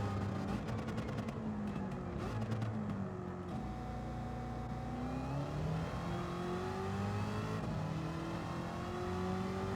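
Chevrolet Corvette Stingray Racer Concept in Gran Turismo 7 with its engine note dropping and swooping through gear changes as it slows into a corner, a steady loud drone with rising and falling pitch.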